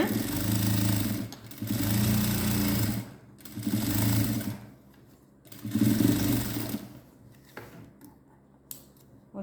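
Sewing machine stitching a folded quarter-inch hem on a pant leg, loud rapid whirring in four bursts separated by pauses, with a few small clicks at the end.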